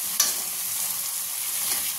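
Spice paste for fish curry stirring and frying in a pan, a soft continuous sizzle with a couple of brief scraping stirs, close and fairly quiet, no talking.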